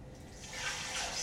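Water and leftover chicken broth pour over cut potatoes in a pot, a soft, steady liquid rush that swells a little louder partway through and keeps going to the end.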